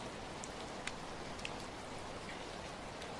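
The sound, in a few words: rain falling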